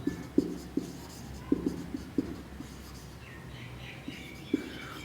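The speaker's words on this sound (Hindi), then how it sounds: "ऐसे लिख सकते हैं हम लोग।" Chalk or marker writing on a board during a biology lesson: a string of sharp taps and short scratchy strokes in uneven rhythm, close and distinct over a quiet room hiss, with no talking.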